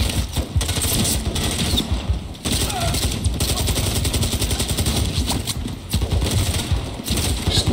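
Sustained automatic gunfire in the Call of Duty: Modern Warfare 3 campaign, rapid loud bursts rattling almost continuously with brief gaps between volleys.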